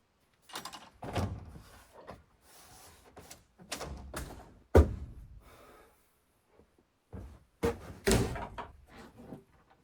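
A swollen wooden door of a hut in a damp forest is forced open, with repeated creaks, scrapes and thuds in bursts separated by quiet pauses, close and fairly loud.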